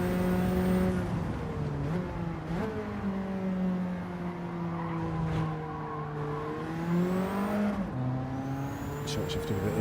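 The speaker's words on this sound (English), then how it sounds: "I'm just going to see what happens if I rev it out normally now" A Cosworth-engined car in Gran Turismo 7 revs hard through the gears, its steady harmonic engine note climbing and dropping at each shift, loud and close, with a voice talking underneath.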